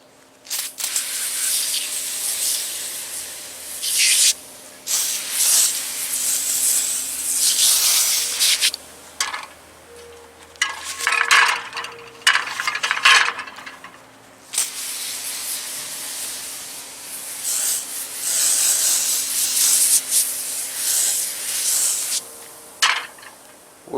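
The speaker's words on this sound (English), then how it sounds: "We're going to shake it up, just spray it on there, let it sit for a few minutes and rinse it off." Bursts of hissing aerosol spray from a can of Dollar Tree oven cleaner, applied to engine valve covers, come in several separate sprays with short pauses, close and fairly loud, a faint hum underneath.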